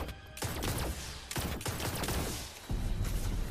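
A pistol in the video game Destiny fires rapidly in loud, dense bursts of shots separated by brief pauses.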